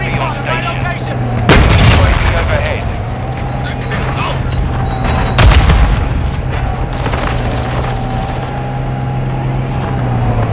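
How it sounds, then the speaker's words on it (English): Mortar strike explosions in Modern Warfare II during an urban ground war match, two heavy booming impacts several seconds apart, loud and close, over a continuous rumble of battle noise. "Friendly mortar strike inbound."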